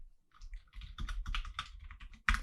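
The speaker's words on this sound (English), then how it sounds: "And if we start typing," Quick, close typing on a computer keyboard, a steady patter of keystrokes ending in one louder, heavier key hit.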